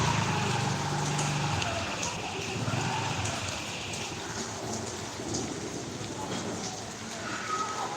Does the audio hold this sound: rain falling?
yes